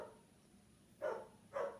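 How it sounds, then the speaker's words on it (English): A dog barks twice in quick succession, two short loud woofs about half a second apart, heard indoors and fairly near against a quiet room. "my dog is barking."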